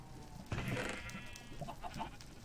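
A sheep in a Minecraft game running the Better Than Wolves mod gives one clear, wavering bleat. Softer, shorter animal calls follow it on a farm.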